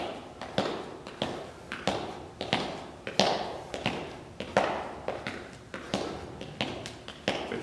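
Feet skipping quickly through a no-equipment bodyweight workout round, a steady run of light, close taps and soft thuds at a brisk, even pace, with no talking.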